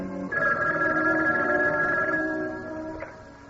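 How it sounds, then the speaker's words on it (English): A telephone bell rings in a quiet apartment, a single sustained bright ring lasting about two seconds with a faint second burst near the end, alone with no voices. "when the phone rang."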